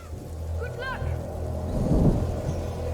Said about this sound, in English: the storm will drown out our voices